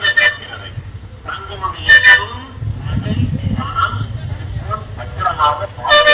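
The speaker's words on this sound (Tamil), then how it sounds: "நிறைய சாரிங்க ஹாரன் போட்டே இருக்காங்க." Vehicle horns honk repeatedly over a rumbling engine and busy street noise at Cuddalore bus stand, with short loud blasts and voices in the background.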